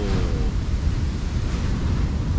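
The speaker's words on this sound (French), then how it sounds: "Le bruit des vagues." Ocean waves breaking on the shore at a rustic campsite, heard as a continuous loud wash of surf mixed with wind rumble, close and steady with no talk.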